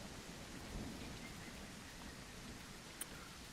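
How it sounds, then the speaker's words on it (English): Thunderstorm in the dinosaur survival game The Isle Evrima: steady heavy rain hiss with a low rolling thunder rumble beneath, plus a single sharp tick near the end, no voices. "Straight away in a thunderstorm"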